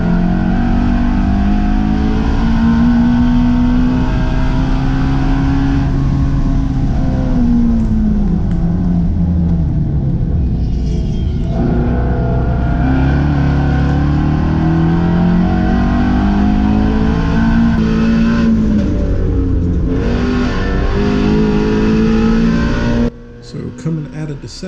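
A Ford Mustang GT350R laps the NCM circuit at speed during SCCA Time Trials Nationals, its V8 engine droning loud and close with steady high-rev pitch swells as it shifts and accelerates down the straights.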